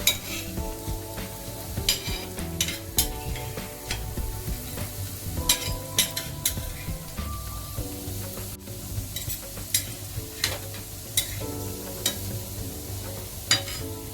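Marathi vade fritters sizzle steadily in hot oil in a pan and are flipped, with a continuous fry and repeated clicks and scrapes of a utensil turning them.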